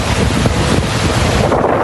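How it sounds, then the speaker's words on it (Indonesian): Strong wind sweeps the coast at Tuzla, driving high waves that rock a row of moored boats. A loud, steady roar of gusting wind and surf fills the whole stretch with no voices. "terjangan angin kencang menciptakan gelombang tinggi yang mengguncang deretan perahu di sepanjang pesisir"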